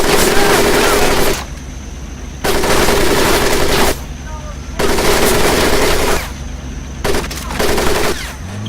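Loud bursts of machine-gun fire in a Pacific Assault World War II training scene come in long sustained volleys separated by brief pauses, close and harsh.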